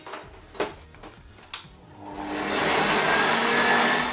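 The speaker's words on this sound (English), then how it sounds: "we have the caster sugar and the egg yolks in the bowl, and we're going to whisk them till they're thick and creamy" An electric whisk beating egg yolks and caster sugar in a bowl for a gluten-free lemon roulade starts up after a few soft knocks and settles into a loud, steady whirring drone.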